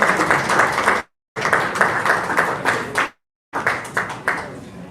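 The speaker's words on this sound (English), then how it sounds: "Can we give her another round of applause?" Applause from an audience at a book launch comes in three sustained bursts of dense clapping, each broken off abruptly by a brief silence. The sound is fairly close and full.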